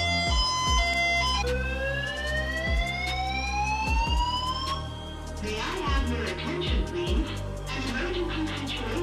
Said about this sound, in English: so the fire alarm rang